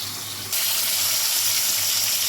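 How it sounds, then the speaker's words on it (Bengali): Rohu fish pieces fry in oil in a kadai at home. A loud, close, steady sizzle starts abruptly after half a second and keeps going without pause. "মাছ ভাজা আমার হয়ে গেছে"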